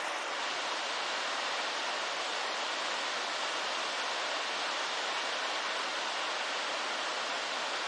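A waterfall on the Galboda Ella trek from Rozella in Sri Lanka pours over rocks in a steady, loud, broadband rush that holds constant throughout with no voices.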